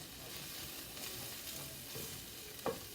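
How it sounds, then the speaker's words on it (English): Wet mushroom stuffing being mixed together in a bowl, a faint, steady soft squishing and scraping with one brief louder clack near the end. "I mix it all in together. Make sure it gets all nice and wet."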